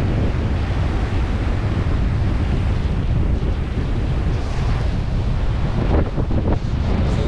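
Wind buffets the microphone steadily on a beach in Tulum lined with palm trees, with a constant roar of surf blended into the gusts and a few brief rustling bursts near the end.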